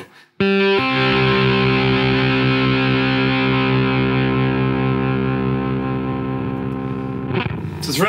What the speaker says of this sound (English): I'm just going to play single notes so you can hear the how long the gate is